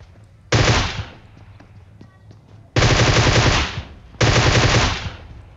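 Loud bursts of M4 rifle fire in the PUBG Mobile video game, three sustained volleys of rapid automatic shots separated by short pauses, close and dominant.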